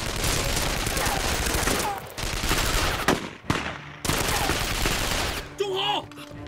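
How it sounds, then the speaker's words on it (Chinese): Repeated bursts of gunfire from a wartime ambush on a regiment's headquarters, loud and close, in rapid volleys with brief gaps and a voice calling out near the end. "哪来的枪声？"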